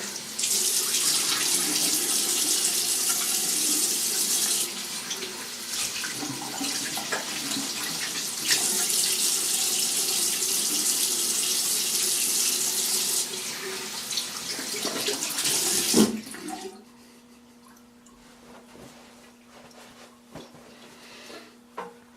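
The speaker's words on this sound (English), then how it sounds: "Gonna rinse off here" Tap water runs steadily and fairly loud while a Muhle R41 razor with a Kai blade is rinsed during a head shave, then cuts off abruptly, leaving a quiet room with a low hum.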